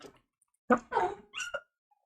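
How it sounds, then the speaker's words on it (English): A dog lets out three short, close barks or yelps in quick succession, spaced by brief pauses, with no talking. "dog noises"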